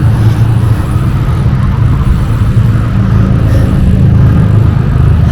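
Highway traffic rolling past near a gas station, a loud, steady roar of cars and engines with a constant low rumble and no distinct pauses or voices.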